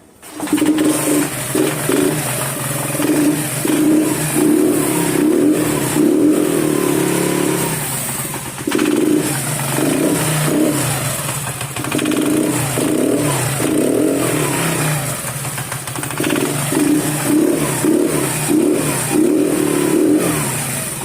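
A used motorcycle engine revs repeatedly up close, loud throttle bursts rising and falling in uneven pulses, with short idle dips between them.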